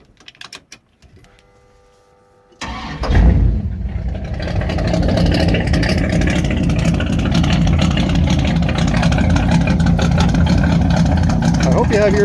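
A 1973 Trans Am vintage race car engine cranks and fires after a couple of quiet seconds, catching with a loud burst and settling into a rough, throaty idle that rumbles steadily to the end.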